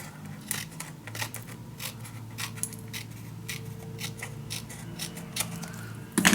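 Scissors snip repeatedly through paper for a mini album, a steady run of crisp close cuts with a brief clatter at the end, over faint background hum.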